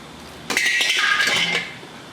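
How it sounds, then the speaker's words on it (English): A 15mm socket working the oil pan drain plug on a Chevrolet Camaro 6.2L V8 gives a close, brief metallic clinking and rattling that lasts about a second, with no talk. "We're gonna grab a 15mm socket and remove the oil pan drain plug."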